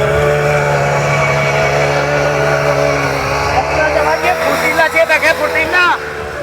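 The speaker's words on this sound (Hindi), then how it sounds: "अभी तो मैं सिर्फ ब्लेड चला के दिखा रहा हूँ" Chetak power tiller engine running with its blades spinning, a loud steady droning hum with strong harmonic tones, close by, with someone talking over it toward the end.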